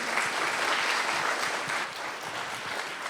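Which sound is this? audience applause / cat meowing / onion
audience applause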